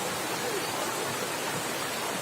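Rushing water from a waterfall spilling into a deep pool at Khlong Maduea in Nakhon Nayok, a steady broadband roar close by with no distinct breaks and no voices.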